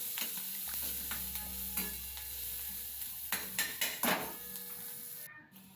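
Chopped garlic and onion sizzle softly in a small amount of oil in a pan, a steady low frying hiss broken by a few stirring scrapes and light clinks of a utensil, with no one talking.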